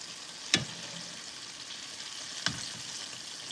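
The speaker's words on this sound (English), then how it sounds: "Fry them up." Chicken for hot honey chicken sliders frying in hot oil, a steady broadband sizzle with two brief sharper crackles, close and moderately quiet, with no talking.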